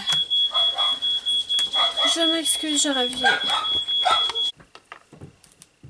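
A household smoke detector shrills in a continuous pulsing high-pitched beep, loud and close, under someone speaking, then cuts off abruptly near the end, leaving quieter background sounds.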